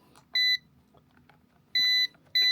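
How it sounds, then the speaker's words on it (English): Ruko F11 Pro 2 drone controller giving loud electronic beeps, three separate tones in a halting rhythm, close and clear over quiet background. "I'll turn this off because it's going to continuously beep."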